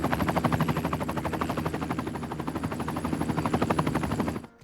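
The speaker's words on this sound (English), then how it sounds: "Wait, that chopper's following me." Helicopter rotor in the city-builder game Cities: Skylines 2, a steady rapid blade chop that stays loud and close, then cuts off abruptly near the end.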